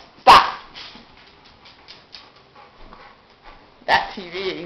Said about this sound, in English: Stop it, dogs. Stop.